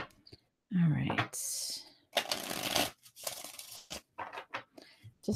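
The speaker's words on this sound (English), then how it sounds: "Just want to make sure that I get them shuffled." Tarot cards are shuffled by hand in bursts of crisp riffling and rustling, close and loud, broken by pauses, with a voice whispering and speaking softly in between.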